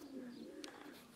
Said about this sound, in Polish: tutaj cały czas przylatują gołębie różne